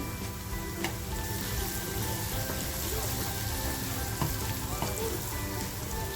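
Garlic and a little turmeric sizzle in hot oil while a vegetable dish is being cooked, giving a steady, even frying hiss with a few faint clicks throughout and no talking.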